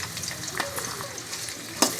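Green chillies, capsicum and beans sizzle and fry in a hot pan for chapati noodles, with a steady close crackle, light stirring scrapes and one sharp clatter near the end.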